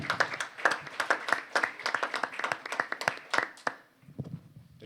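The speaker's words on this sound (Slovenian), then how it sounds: "Zdi se mi, da si tudi mladi zaslužijo aplavz za današnjo aktivnost." Applause from young people at the close of a public discussion event, scattered and uneven claps that thin out toward the end, with a short quieter spell of low murmur.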